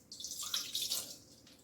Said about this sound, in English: will start by adding in the milk